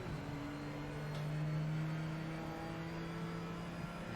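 A BMW GT race car in the Project Motor Racing sim racing game drones at a steady engine pitch with a slight swell, heard alone without commentary.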